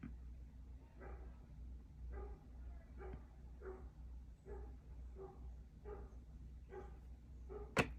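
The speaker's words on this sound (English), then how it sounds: "Sorry for that dog." A dog barks repeatedly in the background of an indoor room, roughly a dozen short, moderately faint barks at a steady rhythm, ending with a sharper sound.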